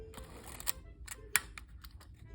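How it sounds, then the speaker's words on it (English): A Canon P rangefinder camera with a faulty shutter curtain fires, giving several sharp mechanical clicks and snaps close up, with one louder snap partway through and no talking. "After the exposure is made, the shutter attempts to close"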